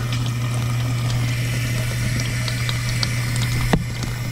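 Water fills a newly installed dishwasher with a steady hiss and low pump hum, constant and close, with a single brief knock near the end.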